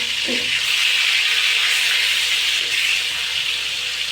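Two pieces of rohu fish fry in hot oil in a pan, giving a loud, steady, close-up sizzling hiss throughout.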